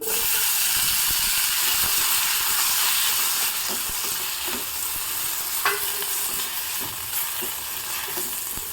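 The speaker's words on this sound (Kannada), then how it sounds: "ಒಗ್ಗರಣೆ ಆಗ್ತಾ ಇದ್ದಾಗೆ ಇದಕ್ಕೆ ಎರಡು ಮೀಡಿಯಂ ಸೈಜಿನ ಟೊಮೊಟೊವನ್ನು ಹೆಚ್ಚಿ ಹಾಕ್ತಾ ಇದ್ದೀನಿ" Steady, loud sizzling of chopped tomatoes frying in hot oil with a spice tempering, a continuous crackling hiss with a few sharper pops, no voices.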